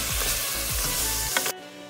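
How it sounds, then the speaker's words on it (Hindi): Mutton pieces frying in a pot for handi biryani, a steady loud sizzle with a few clattering stirs and scrapes, then the sizzle drops away abruptly near the end. "मीट को भी अच्छे से भून लें जब तक इसका कलर चेंज होता है"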